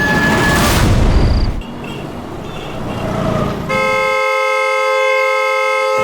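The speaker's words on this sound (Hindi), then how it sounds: "अरे कौन है ये नॉन स्टॉप हॉर्न बजा रहा है?" A car horn blares continuously and loudly close by, a sustained honk amid traffic noise, holding on without a break.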